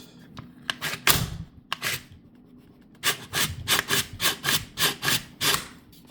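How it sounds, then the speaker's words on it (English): The bolt of a dry, unlubricated budget pistol caliber carbine slides back and forth with a gritty, sandpaper-like rasp, close up, in a series of quick repeated strokes that speed into a steady rhythm toward the end. "Just sounds like it's rubbing on sandpaper or whatever"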